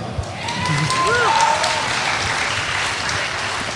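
A steady wash of applause from a large audience at a BlizzCon 2009 Diablo 3 Q&A fills the whole stretch, even and sustained, with faint crowd noise mixed in.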